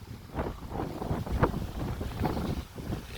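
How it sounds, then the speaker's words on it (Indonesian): Strong wind buffets the microphone on a beach, a steady roaring rumble with gusting surges throughout, loud and continuous with no talk. "Anginnya sangat kencang."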